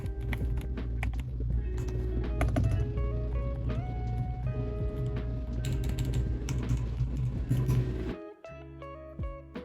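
A GMK67 custom mechanical keyboard with Gateron Silver switches is typed on rapidly while game audio and music play loudly over the clicks.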